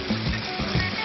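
Fried sweet-and-sour pork tenderloin, fried in extra-virgin olive oil, goes into a wok with thickening sauce. It sets off a close, continuous sizzle with bursts of frying crackle as the pieces are stirred, and no voices.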